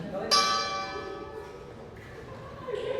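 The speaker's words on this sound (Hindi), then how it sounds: "काशी विद्यापीठ की घंटी बजी" A single bright strike of a university bell at Kashi Vidyapith rings out and slowly decays, its tone hanging over a murmur of background voices and room noise.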